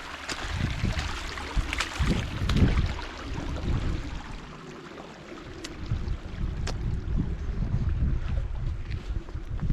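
A creek flowing along a trail on a waterfall loop hike at Eales Preserve, heard as a broad, steady rush mixed with heavy wind buffeting against the microphone, with no talk.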